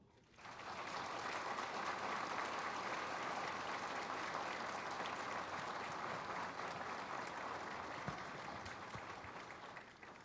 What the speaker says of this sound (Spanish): quisiera que recibamos a nuestro presidente con un fuerte aplauso